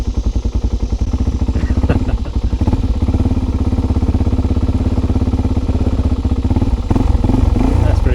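A Suzuki DRZ400 motorcycle idles close by and burbles through a pivot turn on a dirt track, a steady thumping single-cylinder beat with slight revving and clattering near the end, loud and continuous.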